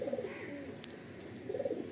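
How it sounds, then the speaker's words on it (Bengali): Pigeons cooing in a loft of show-quality Andhra Lalsira Star Kalanka birds, two soft, throaty coo phrases near the start and end with a quieter stretch between, no voices. "খুব অ্যাক্টিভ পায়রা দেখুন।"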